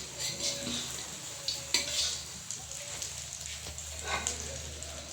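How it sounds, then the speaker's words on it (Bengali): Eggs fried with potato in a pan sizzle softly and steadily, with occasional clinks and scrapes of a utensil stirring and turning them, quiet and close. "তো বন্ধুরা, আলু দিয়ে ডিম ভাজা নতুন রেসিপি আপনাদেরকে দেখালাম।"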